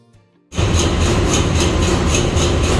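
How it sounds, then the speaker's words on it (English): A 12-cylinder ship main engine starts loud after a brief quiet moment, then runs with a steady, heavy, low rumble and a rhythmic pulsing throb that continues without a break. "this is the way how this 12-cylinder main engine sounds like if it is running"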